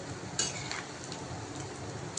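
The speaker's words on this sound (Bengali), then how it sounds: "সুন্দর ভাজা হয়ে এসেছে, অনেকটা দেখতে তাল ফুলুরির মতো লাগছে।" Rice pakoras deep-frying in hot oil give a soft, steady sizzling hiss, with a brief sharper crackle near the start.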